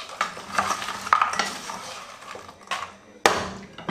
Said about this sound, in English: Another stir.